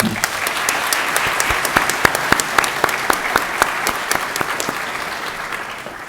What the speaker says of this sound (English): Let's give Dr. Dunning a round of applause.